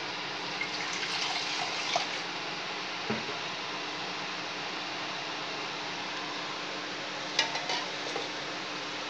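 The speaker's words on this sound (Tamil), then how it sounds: "விட்டு தேவையான அளவு கொஞ்சம் தண்ணீர் விட்டுக்கோங்க." Water is poured into cooked, mashed lentil paste while making hotel-style tiffin sambar for idli, giving a steady close splashing hiss with a few light clinks of a utensil against the pot.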